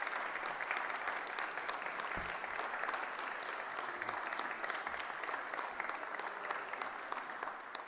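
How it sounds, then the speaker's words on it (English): Graduates at a Fife College graduation ceremony applaud their family and friends, a dense, sustained round of clapping from a large crowd in a hall, steady throughout at moderate distance. "give them that well-deserved round of applause to support you through the journey you've just been"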